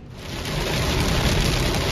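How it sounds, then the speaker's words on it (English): Rain pours during a thunderstorm outdoors, a loud, dense wash of noise that swells early and stays heavy, with low rumbling mixed in and no voices. "There was lightning in the area and rain"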